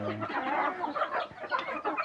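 A fighting cock rooster clucks nearby on a farm, giving a few short, low throaty clucks in an irregular rhythm against quiet background noise.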